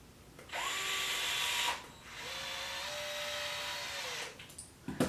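A cordless power drill driving 2mm screws while fitting a Wide Maxx kit: two whirring bursts, the first short and high-pitched, the second longer and lower as the motor slows under load, close and fairly quiet.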